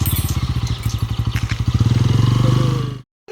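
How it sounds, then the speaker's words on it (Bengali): A motorbike engine putters close by with a rapid, steady pulse for about three seconds, then cuts off abruptly into silence. A faint voice can be heard under the engine. "মামাইয়ের সাথে ওর বাইকে এক রাউন্ড ঘোরা হয়ে গেল।"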